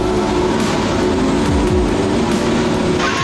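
Aston Martin Formula One car pulling away in second gear at around 80 km/h, its engine a loud, steady close drone with shifting harmonic whine and a brief downward pitch sweep.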